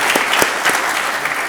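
An audience at a university lecture event applauds, a brief dense burst of many hands clapping at moderate loudness.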